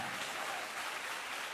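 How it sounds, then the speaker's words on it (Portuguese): A church congregation keeps up a steady wash of crowd applause, even and unbroken, moderately loud with no voices standing out. "Aplauda Ele mais forte."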